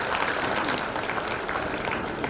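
An audience at a stress-relief programme in Srinagar Garhwal, Uttarakhand, breaks into dense, sustained applause, many hands clapping together at moderate loudness for a couple of seconds, with no talk over it.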